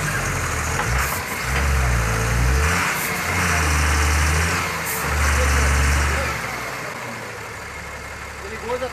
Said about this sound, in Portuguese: O motorista do caminhão de lixo está tentando tirar aqui de todas as formas o veículo dessa valeta